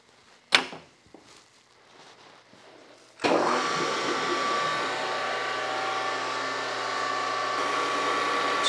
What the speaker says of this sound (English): So really this grinder needs to warm up for a few minutes.